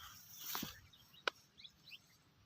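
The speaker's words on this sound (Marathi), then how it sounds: "झाडा झुडपं, पक्षी ओरडतायत" Birds calling around a farm with bushes and trees: a few short, sharp chirps, one clear and fairly close, others fainter, over a quiet outdoor background.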